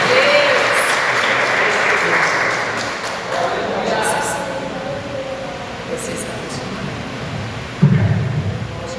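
A church congregation claps in praise at an evangelical service, a broad patter that gradually thins, with a brief louder burst near the end and voices mixed in.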